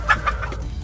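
Chickens in a backyard coop give a few quick, close clucks in a short burst, heard alone with no talk.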